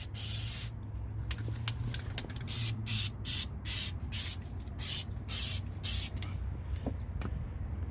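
Rust remover hisses from a spray bottle in a quick series of short bursts onto a rusty semi truck chassis, over a low rumbling background.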